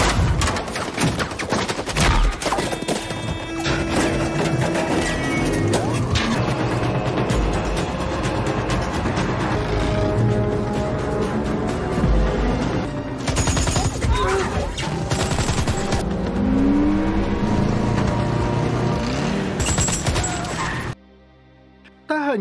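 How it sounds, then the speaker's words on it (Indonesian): Dense bursts of film gunfire as soldiers chase and shoot at fleeing cars during the Somali civil war, loud rapid volleys mixed with engine noise and crashes, ending abruptly. "Pasukan itu terus mengejar dan menembaki mereka."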